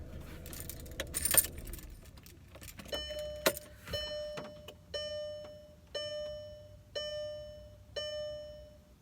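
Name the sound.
car engine switched off and restarted, keys jangling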